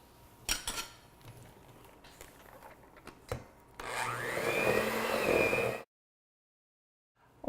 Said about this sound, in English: we are going to beat it for 3 minutes. The butter and the icing sugar.